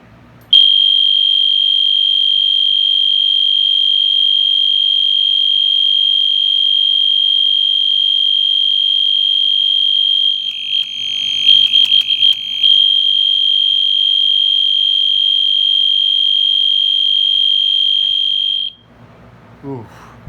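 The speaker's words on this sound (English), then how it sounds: "it's really obnoxious on a electronic horn on continuous" An EST Genesis electronic fire alarm horn sounds on continuous, a loud, piercing, unbroken tone that holds for about eighteen seconds and then cuts off abruptly.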